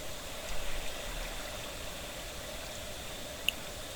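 Water released onto a farm in Minecraft runs as a faint, steady rushing hiss that holds evenly throughout, with a tiny click near the end.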